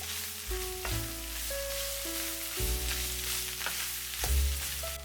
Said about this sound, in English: Add the onion. Stir from time to time for 2 minutes.